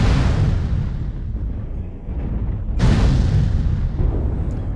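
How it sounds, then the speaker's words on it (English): Artillery strike explosions in the MechWarrior Online video game: a sustained, heavy rumbling barrage, then a sudden, sharper, louder blast partway through that rolls on into more booming. "Artillery strike online."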